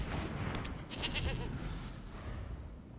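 Bleat from the Goat card in the MTG Arena game, a faint, short animal call over a dense, noisy game backdrop.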